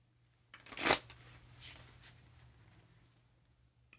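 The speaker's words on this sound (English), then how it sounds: "now I'm going to have to look up how to shuffle cards with long nails" Playing cards shuffled by hand with long nails: one sharp riffling burst near the start, then softer rustling and handling that fades, with no talking.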